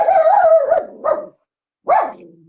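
A dog barks and whimpers in a few close, loud, tonal yelps, a longer whining bark followed by a short one, a brief silence, then a final sharp bark, with no talk.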